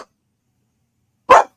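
A single sharp bark from Scooter, a dog at home, close and loud near the end after near silence, with a faint trace of another sound at the very start.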